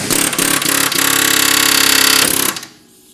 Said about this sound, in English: we're gonna use a pickle fork on the air hammer